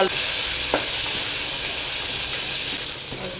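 Onion hitting hot oil tempered with cumin and bay leaf, a loud burst of frying sizzle and hiss that holds steady with a couple of clinks from a utensil, easing slightly toward the end.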